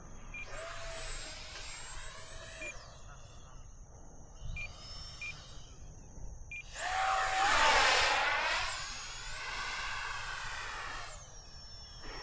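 An FA-XX RC jet airplane passes with a high turbine whine that rises and falls in pitch, swelling louder as it sweeps close by, then easing off again.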